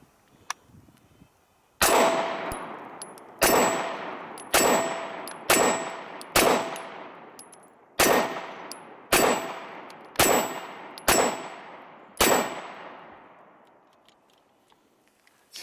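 A compact handgun fires about ten sharp, loud shots in an uneven rhythm, each crack ringing out with a metallic clang and decaying echo, and a quieter faint pop comes before the first shot.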